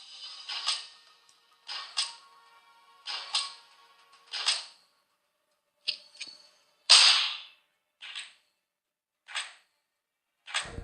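Sharp gunshots from the Vainglory video game crack out one at a time, about a dozen spaced bursts with short bright tails, loud and clean with silence between them.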